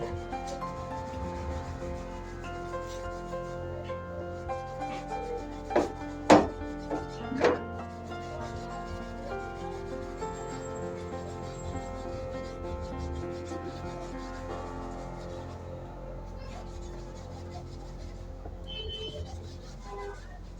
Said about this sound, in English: So it is better to use hand grater to grate our water yam.